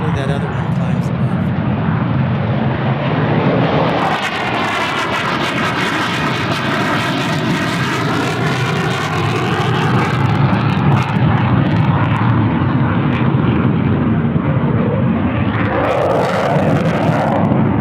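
An airplane at Tucson International Airport roars past, a loud, sustained engine rush that swells and shifts in pitch as it passes, with voices talking over it.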